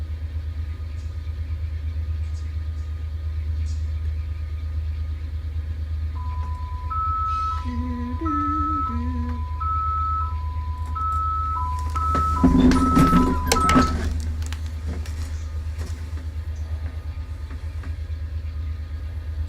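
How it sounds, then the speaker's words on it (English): AI-driven train rolling along in Run8 Train Simulator V3, a steady low engine rumble running throughout, joined midway by a brief alternating two-tone signal and a short burst of clattering noise, with no voices. "I'm just running one of the AI trains."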